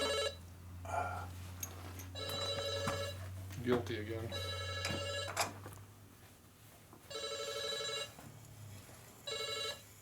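A cell phone rings in a motorcycle machine workshop during engine work, its electronic ringtone repeating in regular bursts against a low shop hum, while people talk between the rings.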